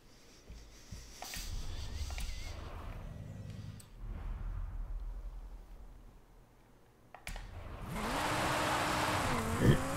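A 2006 Formula Drift Dodge Viper SRT10 drifting in Forza Horizon 5: a revving engine rises and falls through gear changes, then surges into a loud, sustained roar with squealing tires near the end, with no talk.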